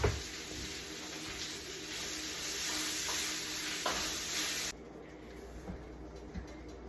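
Green onion and garlic stir-fry in a hot skillet or wok, with a steady loud sizzle and occasional stirring scrapes that run continuously, then drop to a quieter sizzle near the end.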